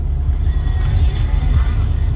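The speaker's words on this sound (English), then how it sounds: "Car fires right up. So it's a little bit of a cold start." A 2001 Saturn SC2 coupe engine running just after a cold start, a steady loud low rumble throughout with a slightly uneven idle and nothing else standing out.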